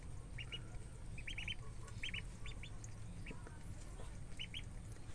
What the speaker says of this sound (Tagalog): yung ating mga itik na nabili 2 days ago.